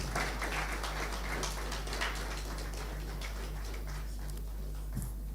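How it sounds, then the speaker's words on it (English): An audience at an engineering symposium applauds with a steady, dense patter of clapping that holds for several seconds over a low electrical hum. "Please, let's give him another round of applause."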